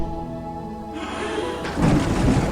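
A thunder sound effect from a Portuguese Bible audio drama of Exodus. A tonal musical tail fades into a deep, rolling rumble that swells louder in the final second, with no voice over it.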